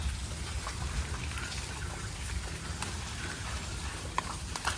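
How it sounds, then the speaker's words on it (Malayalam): Rain falling outdoors, a steady dense patter of drops on surfaces with a few louder individual drips, continuous and fairly close, with no talking. "മഴ"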